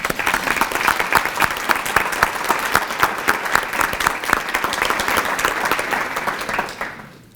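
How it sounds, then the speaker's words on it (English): Steady applause from an audience at a State of the City event in Idaho Falls, loud and dense with sharp individual claps, holding for several seconds before quickly fading out. "Would you please join me in giving them a round of applause?"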